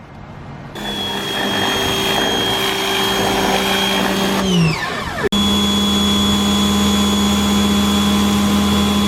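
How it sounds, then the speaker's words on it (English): Compressed air blows out the head stud holes in a Mitsubishi Evo 8 engine block, a loud, sustained hiss with a steady whine that briefly sputters and cuts off, then resumes just as strong. "I was blowing out the head stud holes in the block"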